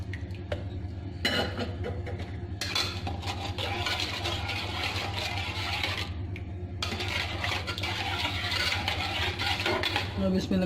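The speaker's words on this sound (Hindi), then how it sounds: "अब इसमें लगातार चम्मच चलाते रहेंगे, चलाते रहना चमचा।" Spoon stirring custard powder jelly mixture in a pan over a low flame, continuous scraping and clinking close up against a constant background hum.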